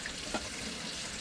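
Eggs are rinsed under a running kitchen tap, giving a soft, steady hiss of flowing water with a brief splash partway through, fairly quiet and close.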